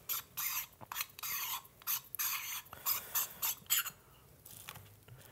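The base of a 1ZPresso K-Plus hand coffee grinder is unscrewed and screwed back, a series of close, quiet scraping and rasping twists in short rhythmic bursts, then a soft pause.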